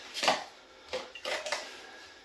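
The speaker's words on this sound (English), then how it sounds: "pretty much just got the Toaks titanium mug, nothing fancy on it" A Toaks titanium mug is handled, giving a few light metallic clinks and knocks, one sharp tap then a quick pair, close and fairly quiet with no talking.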